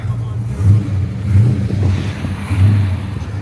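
A muscle car engine for sale in Adelaide revs in three short bursts, each rising and falling back to a deep idle, loud and close.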